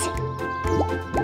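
Cartoon bubbles blown by a woodpecker through a net pop and burble in quick, wet, drippy plops, several short bursts close and clear across about a second.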